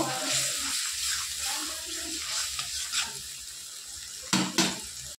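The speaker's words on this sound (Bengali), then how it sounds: "দেওয়ার পর আমি একটু মশলাটা আবারও কষিয়ে নেব।" Chili powder and turmeric are stir-fried in a pan for a vegetarian paneer and potato dish, giving a soft sizzle with scraping spoon strokes and a couple of louder knocks near the end.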